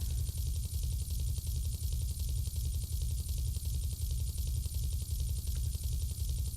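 Helicopter in the GTA3 video game flying through Liberty City, a steady, loud rotor chop with rapid even pulsing and a constant engine hum that continues throughout with no talk.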